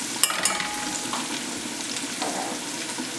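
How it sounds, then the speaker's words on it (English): Butter sizzling in a hot pan as it is deglazed for chicken piccata, a steady close frying hiss with a couple of sharp spoon or pan clinks near the start, no voices. "We'll deglaze the pan."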